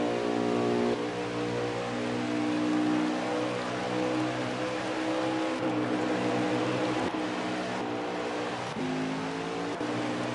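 Race cars roar through a NASCAR Heat 5 race on PS5, a continuous loud engine drone with layered pitched whines shifting as the pack passes, with no talk heard.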